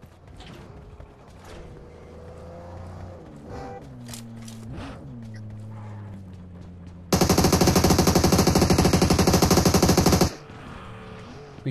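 Gunfire in PUBG Mobile: a loud, continuous rapid-fire automatic burst lasting about three seconds, following mechanical creaking and vehicle-like hum.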